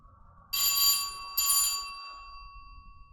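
A bell rings twice in the horror video game At Dead Of Night, two bright metallic strikes about a second apart, the second leaving a long ringing tone that slowly fades.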